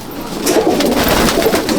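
Andhra and Malwai pigeons coo in a loft, several birds overlapping in a continuous, fairly loud and close rolling murmur.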